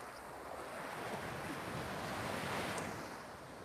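Rough surf breaks on Hua Hin beach in Thailand, a continuous wash of waves rising and falling with some wind noise, fairly quiet and steady with no talking.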